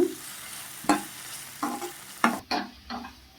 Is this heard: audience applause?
no